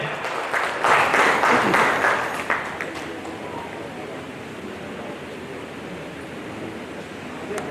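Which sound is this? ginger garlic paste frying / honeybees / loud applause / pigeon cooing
loud applause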